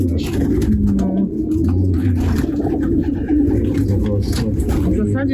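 Domestic pigeons cooing continuously in a crowded loft of about 160 birds, a steady close murmur of low overlapping coos with some voices talking over it.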